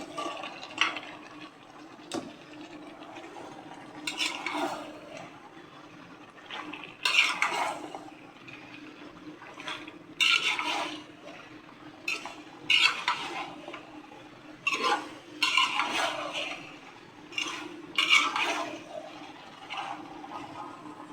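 Beef gizzard and liver being stirred in a pan with spiced masala, with repeated scraping and clinking strokes of a utensil coming in irregular bursts over a faint background hum.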